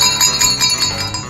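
A large handmade sleigh bell, hammered from thick metal plate, rings in bright, shimmering jingles with a sustained metallic ring across a short burst.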